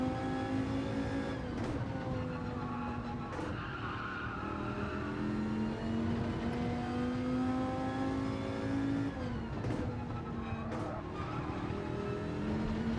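A race car at Monza in Gran Turismo 7, its engine note climbing steadily then dropping sharply at upshifts, several gear changes in a row, loud and continuous with no talking.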